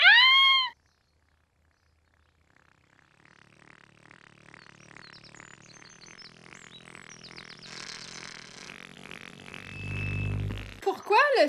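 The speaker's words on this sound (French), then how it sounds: "le style d'haut-parleur périscope il fait le bruit d'un pet quand il sort" A Teletubbies periscope speaker makes a long, buzzy fart-like sound as it extends, with a cartoon cat meow at the start and end.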